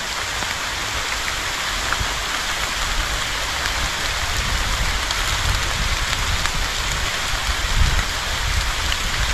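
Steady rain pours through a forest in Odisha, a dense, even hiss of drops on leaves and ground, continuous and close with no voices.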